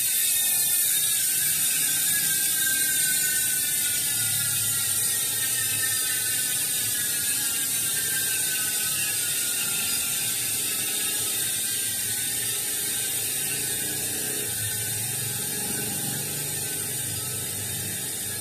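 An Industry Nine bicycle hub freewheel spins with a loud, rapid, continuous high-pitched ratchet buzz, steady and close throughout with a slight slowing whir, no talking over it.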